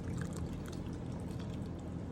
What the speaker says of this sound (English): Instead of a cup of water, we're going to be adding a whole cup of milk.